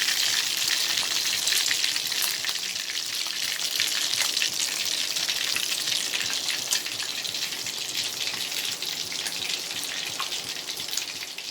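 Prawn balls deep-fry in hot oil, a steady dense sizzle with fine crackling bubbles that holds at an even level throughout, close and with no voices.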